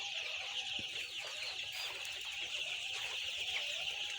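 Young colour bird chickens cluck and chirp steadily inside a warm poultry house, a dense, continuous flock chatter filling the whole stretch with no talking.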